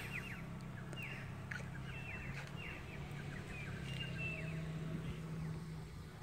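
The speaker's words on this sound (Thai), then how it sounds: "เสียงนกจิ๊บจิ๊บจิ๊บจิ๊บจิ๊บ" Small birds chirp and twitter in repeated short trills outside a house on a Sunday morning, faint and distant over a steady low rumble of traffic or machinery.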